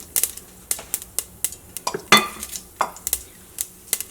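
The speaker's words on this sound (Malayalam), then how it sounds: "ഇതിലേക്ക് 2 നുള്ള ഉലുവ ചേർക്കാം." Mustard seeds and fenugreek fry in a pan in coconut oil, heard as sharp, sporadic pops and crackles, nearly rhythmic, with metallic ticks against the pan over a quiet background.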